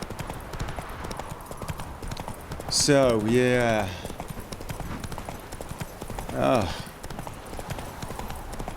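Horse hooves in The Witcher 3: Wild Hunt clip-clop in a steady, even trot throughout, close and clear, while someone speaks briefly twice over them.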